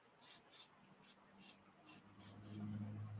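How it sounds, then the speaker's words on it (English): Spray glue activator from an aerosol can, seven short, hissing bursts in an even rhythm at close range, followed by a low hum at the end. "a good old spray activator"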